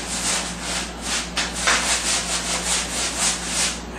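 A roller spreads sealer across a shower surface with continuous, close rubbing strokes that rise and fall in a steady back-and-forth rhythm.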